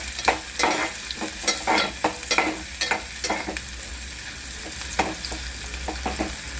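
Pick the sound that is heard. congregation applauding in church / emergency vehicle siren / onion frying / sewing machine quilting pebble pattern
onion frying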